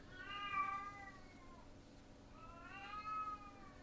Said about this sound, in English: Sorry, my cat's going crazy here.